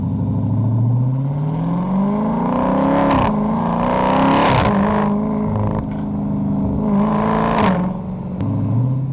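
A 2023 Dodge Charger Scat Pack Wide Body engine drones steadily up close, its pitch sliding as the revs fall, with several sharp burbling crackles breaking through along the way.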